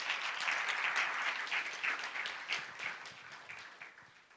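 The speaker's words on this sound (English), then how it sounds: "can we give Dr. Brian and the team a hearty clap for this?" Dense audience applause, bright and crackling, holds steady and then slowly tapers off, with no voices over it.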